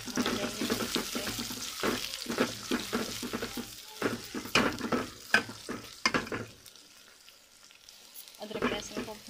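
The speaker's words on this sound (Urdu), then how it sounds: "ادرک لہسن کو بھون لیا ہے" Ginger garlic paste frying with browned onions in a pan, a steady crackling sizzle broken by repeated scraping stirs, loud and close, fading to near quiet briefly before the stirring resumes.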